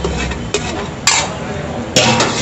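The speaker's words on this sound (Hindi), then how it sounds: "ये सबको मिक्स कर देना है।" A spoon mixes bhel with red chilli-garlic chutney on a plate at Rajubhai's bhel stall in Modasa, giving three sharp metallic clinks over a soft, steady scraping and rustle.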